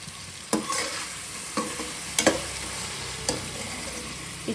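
Mutton for nati-style biryani sizzles steadily in a pan. A spoon stirs it in a few distinct scraping knocks over the continuous frying hiss, with no talking.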